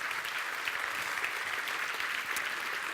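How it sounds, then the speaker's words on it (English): An audience at a startup festival keynote applauds, a dense, continuous wash of clapping from many hands held at steady volume for about three seconds. "Round of applause."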